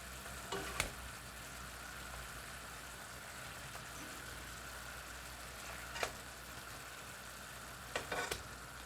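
Pork chops simmering in a bubbling honey garlic glaze give a faint, steady sizzle and crackle, with a few light clinks of a utensil against the pan.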